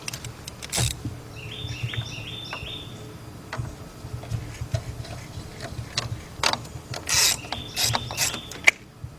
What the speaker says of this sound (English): We're going to take our ratchet and go ahead and tighten that down